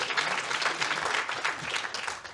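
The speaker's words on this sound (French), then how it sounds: "Oh, pardon, applaudissements pour Johanna." A room full of people at a French-language film screening event claps steadily for a speaker, a dense, even patter of hands at moderate distance.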